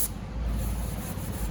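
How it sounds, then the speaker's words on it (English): Cleaner is sprayed around an engine's rear main seal cover, giving a soft, steady hiss that runs continuously for a moment at close range. "we're just gonna spray a little bit of this around here"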